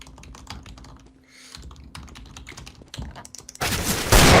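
Rapid clicking of a computer keyboard runs through most of the moment during a CS:GO match, steady and fairly close, before a loud burst of noise takes over at the end.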